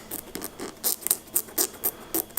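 A stiff brush scrapes dirt off the sole of a Nike LeBron Soldier 11 sneaker in short, quick strokes, about a dozen crisp rasping bursts in an uneven rhythm, close and clear with no talking.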